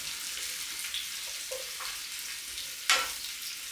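Mushrooms sizzle and fry steadily in a pan while being cooked down for a creamy risotto, with a soft continuous hiss, a few faint stirring clicks, and one sharper burst of sizzle near the end.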